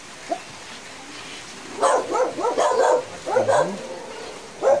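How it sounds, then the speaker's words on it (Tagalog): A dog barks in a quick run of sharp, fairly close yaps and yips in a village after a typhoon, with a faint bark near the start and another at the end. "Aso."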